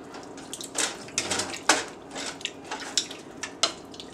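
Pork and beef meat stuffing stirred in a cooking pan, with repeated soft scraping and clinking strokes at close range, fairly quiet and steady with no talk.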